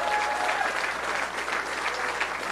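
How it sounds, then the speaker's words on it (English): A crowd claps steadily throughout at a governor's election victory speech, a dense, even wash of applause from many hands. "Please give them a round of applause."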